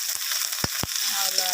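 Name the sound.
onion, ginger, garlic and bay leaves frying in oil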